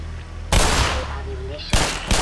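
Shotgun blasts in the game Black Mesa: a loud, close boom with a long decaying tail, followed by two more sharp reports in quick succession near the end.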